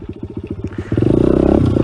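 A small Honda CRF motorcycle engine putters at idle with a steady low chugging, then revs up into a louder, faster, buzzing drone, close by.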